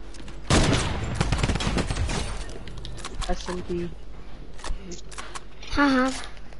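SMG gunfire in a video game comes in rapid bursts, loudest in a dense volley near the start with scattered shots after, mixed with game effects while players talk over it.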